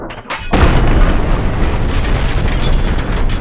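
A booby-trapped AK-47 loaded with sabotaged ammunition detonates in a sudden loud blast, followed by a long roaring, crackling burn that stays strong for several seconds.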